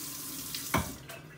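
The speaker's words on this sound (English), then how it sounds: "Okay, wash my hands." Water from a kitchen tap runs over hands being washed during pot sticker cooking, a short close splash that swells briefly and then settles.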